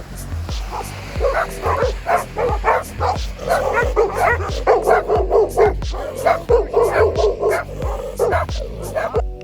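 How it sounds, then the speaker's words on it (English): Several dogs bark and yip excitedly in a rapid, steady stream of sharp close barks with some whimpering, while a person talks over them. "So many dogs."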